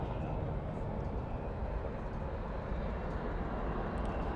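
An airliner rolls out after landing at Dallas/Fort Worth airport at night with thrust reversers deployed, a continuous broadband roar of engine noise holding steady and loud throughout, without any talk.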